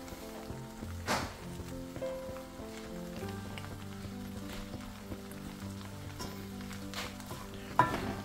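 Fried rice with soy sauce and green cabbage sizzles softly in a pan, a steady low crackle with a few clinks of stirring, heard alone under quiet background music.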